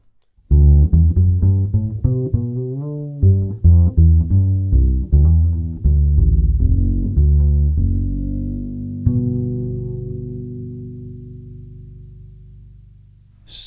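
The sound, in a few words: double bass through pickup, flat EQ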